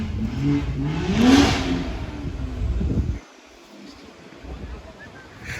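A Volkswagen Golf GTI Edition 35 with changed, lowered suspension passes close by, its engine roaring loudly with a rising pitch, then cutting off abruptly to quieter street background.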